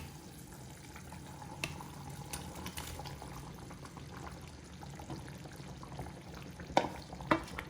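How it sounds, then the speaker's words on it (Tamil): Stingray pieces fry and get stirred in a pot for a traditional curry, a soft low sizzle with scraping stirs and a few sharp utensil clinks near the end, no talking. "இந்த நேரம் இந்த இந்த திருக்க மீனையும் அதுக்குள்ளே போடலாம்"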